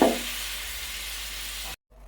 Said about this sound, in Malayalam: ഇത് നല്ല തിളച്ചു